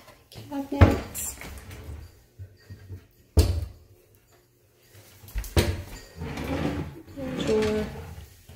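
Household cabinet doors and drawers open and close in a newly painted home, several sharp knocks and bumps spaced across the clip, with a person talking between them.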